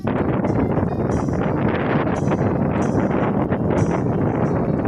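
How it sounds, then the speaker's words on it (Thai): Strong evening wind roars and buffets continuously on a hilltop overlooking the Pa Sak dam, with gusts swelling and rustling bamboo in the background. "เป็นบรรยากาศอย่างลมครับ เป็นลมแรง"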